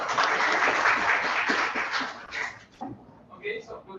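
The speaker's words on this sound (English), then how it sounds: "I would request everyone to give a good round of applause to our panelists." A round of applause from an audience for panelists at a National Education Day event, dense clapping for about two seconds that then thins into scattered claps, with a dog barking or whimpering nearby.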